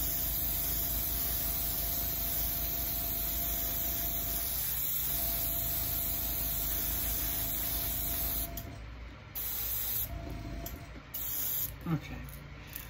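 An airbrush fed by an air compressor sprays color onto a bass lure, a steady close hiss running continuously, then broken into short stop-start bursts near the end.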